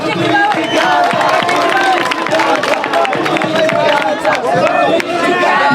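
A large outdoor crowd cheers and applauds a girls' band at a car-free zone event in Rwanda, with dense, loud, continuous clapping and shouting and voices talking over it.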